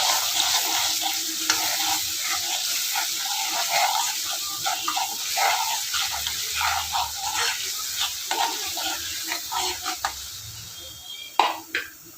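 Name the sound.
roasting ground masala paste in pan for tomato saar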